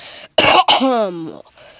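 A single sharp cough or throat-clearing burst, close and loud, followed by a short voiced strained sound, brief and alone without talk.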